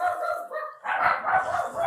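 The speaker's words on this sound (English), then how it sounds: "There's our dogs alerting everybody in the neighborhood." Household dogs bark in quick, repeated bursts close by, several overlapping yips and woofs sounding an alert, with no talking.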